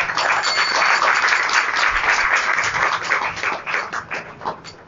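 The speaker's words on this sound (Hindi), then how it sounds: "उनका ताली बजाकर स्वागत करो।" A crowd at a Radhashtami Chaav Mahotsava devotional gathering in Faridabad breaks into sustained applause, a dense wash of many hands clapping that fades unevenly toward the end.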